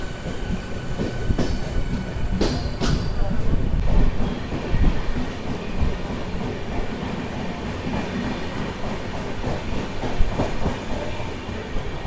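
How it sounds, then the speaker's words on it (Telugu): A Visakhapatnam to Tirupati express train, number 18507, rumbles steadily along the rails after leaving Ongole, with rhythmic wheel clatter, occasional squeaks, and a constant low roar heard from on board. "మనమైతే ఒంగోలుకి అయితే వచ్చాం, బయలుదేరిపోయింది మన ట్రైన్"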